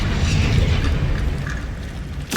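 The Confringo fire spell from Hogwarts Legacy erupts in a sustained, rumbling blast that rolls on for about two seconds, ending in a sharp crack right at the close.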